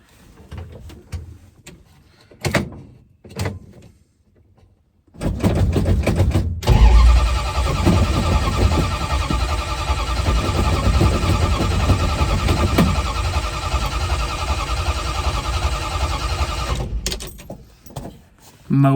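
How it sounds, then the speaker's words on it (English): A Dodge engine cranks at length without catching, a loud, steady starter drone of about twelve seconds, preceded by a few clunks and rattles and ending abruptly. "I have oil pressure under cranking. Why won't it start?"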